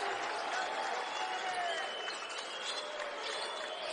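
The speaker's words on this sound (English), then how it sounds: "listen to this crowd. They're on their feet with still 7 minutes to go in the title" A basketball arena crowd at the Charleston Classic, Marquette against St. Bonaventure in the title game, roars steadily while standing, a broad sustained cheer with faint whistles and a distant announcer's voice beneath it.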